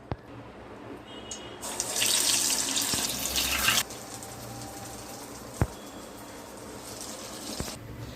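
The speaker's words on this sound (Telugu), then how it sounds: "ఆయిల్ పోసుకున్నామండి గారెలు వేపడానికి ఇప్పుడు ఒక వన్ బై వన్ గారెలు వేసుకున్నారు" Vadas fry in hot oil for perugu vada, a sizzling hiss that swells loudly for a couple of seconds then settles into a softer crackle, with a few light clicks and no talking.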